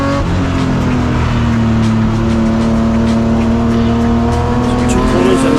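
BMW M race cars in a BMW M Performance Parts race series (Class D) roar along the track as they approach a braking point, a loud continuous engine drone with steady harmonics and shifting pitch throughout.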